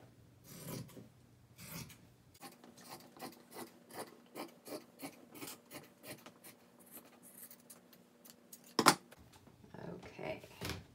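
Scissors cut through flannel shirt fabric along a marked line, giving a steady run of rhythmic rasping snips close by, with a sharp louder clack near the end.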